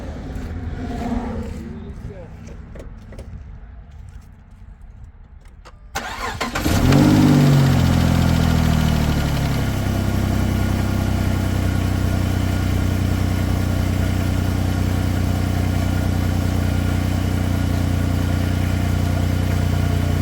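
Car engine starts after an oil change, with quiet handling sounds first, then a sudden loud crank and catch, a brief rev and a steady rumbling idle that continues to the end.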